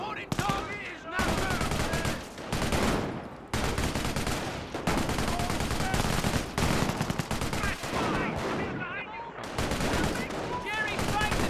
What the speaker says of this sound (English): An MG emplacement is an excellent defense against attacking infantry.